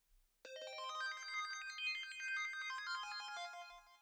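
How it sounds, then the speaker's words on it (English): Bright synth notes ring out after a brief silence, each one trailed by repeating delay echoes that spread and overlap into a wide, shimmering wash, loud and steady with no voices. "The delay helps the synth sound cover a wider space than it would without it."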